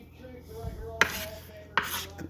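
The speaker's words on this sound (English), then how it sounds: "we're going to turn and do one little chop here" A knife chops cooked ingredients for cheeseburger soup on a cutting board, landing two crisp, close knocks about a second apart over a quiet background.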